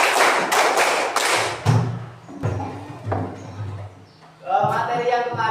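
A classroom counts off rhythmic clapping: four quick, sharp group claps close together, then scattered softer taps and murmuring, with talk rising at the end.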